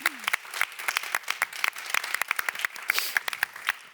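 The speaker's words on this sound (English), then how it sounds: "let's give them all a round of applause just to say thank you" An audience at a youth awards ceremony applauds the finalists with a moderately dense patter of individual claps. The clapping is sharp and fairly close, holds steady for about four seconds, and has no talk over it.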